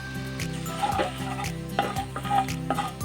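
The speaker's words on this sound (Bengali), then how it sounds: "তেল ভালো করে গরম হলে এতে একটা শুকনো লঙ্কা, 1/4 চামচ গোটা জিরে, 2টো তেজপাতা, 7-8টা গোলমরিচ ফোড়ন দিলাম।" Dry red chili, whole cumin, bay leaves and peppercorns crackle in hot oil with ghee in a pan, a close steady sizzle with scattered pops and stirring scrapes.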